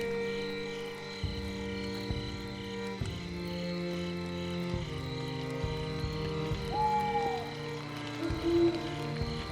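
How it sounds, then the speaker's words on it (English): Owls hooting in the video game Pentiment, soft repeated hoots over a steady ambient drone with tonal music-like layers and faint night sounds. "all these owls."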